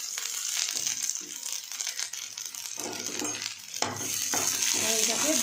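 Beetroot paste fries in a pan with a steady hiss and sizzle, broken by scraping and stirring strokes and a sharp clink of utensil against the pan, close and fairly loud.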